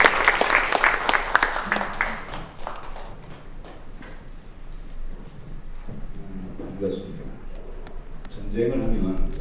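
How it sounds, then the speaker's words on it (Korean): A burst of enthusiastic applause from a church congregation at a prayer meeting fades after a few seconds, followed by someone speaking over a loudspeaker in a large room. "우리 뜨거운 박수로"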